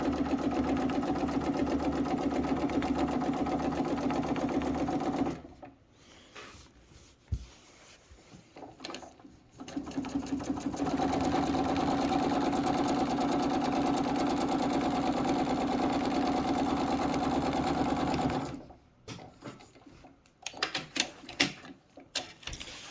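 A sewing machine stitches a quilt border in long steady runs of rapid mechanical whirring, close and fairly loud, broken by pauses with small clicks and handling sounds, no talk.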